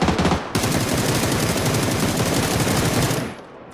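Sustained automatic gunfire in the battle royale game PUBG, a loud, rapid stream of shots with a brief gap early on, running steadily for about three seconds before cutting off.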